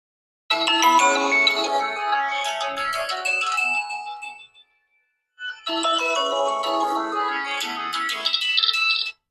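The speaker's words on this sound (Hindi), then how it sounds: "अब इसका मैं आपको साउंड सुनाता हूँ, जो कि कमाल का फोन साउंड है इसका" A bright electronic ringtone melody from a vivo Y200 phone plays loudly in two bursts separated by a short pause, clear and close with no voices.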